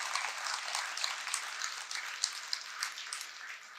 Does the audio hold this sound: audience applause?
yes